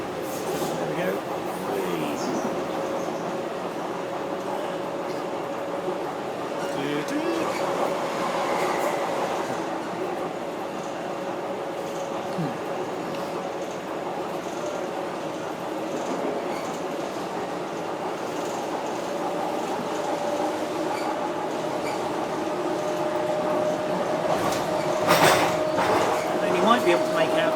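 A London rail line train running at night towards Stratford, a steady rumbling ride with wheel and track noise throughout and a rising squeal near the end, with some talk over it.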